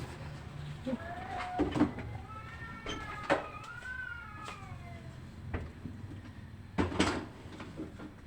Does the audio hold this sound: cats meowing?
yes